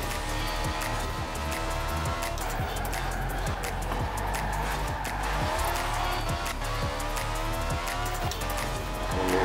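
BAC Mono race car driving hard and accelerating in Forza Horizon 4, a loud continuous high engine wail rising through gears with tire squeal and clicking shifts.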